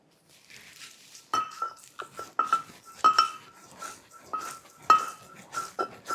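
Soaked rice paste ground by hand on a traditional grinding stone, with close, repeated knocking and scraping strokes in an uneven rhythm.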